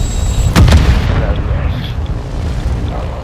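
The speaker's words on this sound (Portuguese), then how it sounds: "Granada lançada!" Grenade explosion in the game Warzone DMZ, a single deep boom with a sharp onset followed by a rumbling decay, heard over game ambience.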